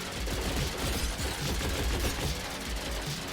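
Rapid video game gunfire pours out as a dense, unbroken torrent of overlapping shots, loud and close throughout with no voices.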